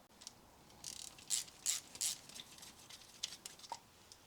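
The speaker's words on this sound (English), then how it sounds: "Now we can hook that out of the way and remove the flexi line from the caliper." A spanner ratchets while the brake flexi line comes off the front caliper of a Mazda MX5, a quiet close series of sharp metallic clicks in short bursts with no speech.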